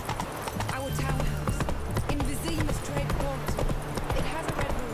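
Horse hooves clip-clopping in The Witcher 3: Blood and Wine as the horse moves at a canter, a steady rhythmic clatter close by, under continuous talk.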